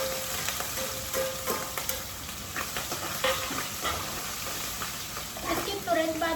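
Whole cinnamon, black pepper and cardamom fry in a pan with ginger paste and green chili, giving a soft, steady sizzle broken by stirring scrapes, and it grows a little louder toward the end.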